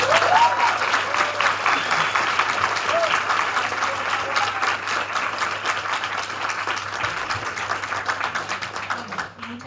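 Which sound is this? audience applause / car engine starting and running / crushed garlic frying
audience applause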